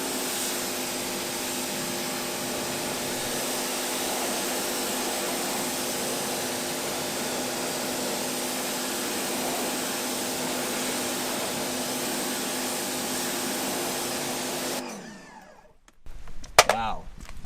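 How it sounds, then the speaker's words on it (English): A pressure washer blasts dirt off car wheels with a loud, continuous motorized roar and spray hiss for about fifteen seconds, then cuts off abruptly, followed by a few brief knocks. "I'm going to grab the pressure washer and we'll hopefully see all the dirt blast off"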